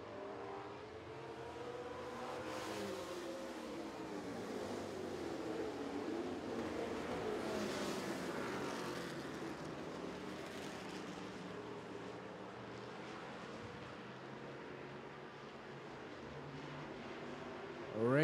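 Street stock race cars roar around a speedway in a steady, continuous engine drone with rising and falling passes, loud and sustained throughout, with faint talk mixed underneath.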